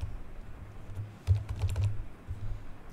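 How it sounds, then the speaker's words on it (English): Typing on a computer keyboard, a quick run of close, soft key clicks in two short bursts, alone with no speech. "we need to click on run new task and type here PowerShell"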